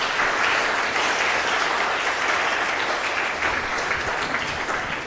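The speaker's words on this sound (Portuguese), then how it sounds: "Uma salva de palmas para o Senhor Jesus Cristo." A church congregation bursts into steady, continuous applause during a sermon, a thick wash of many hands clapping together at an even level.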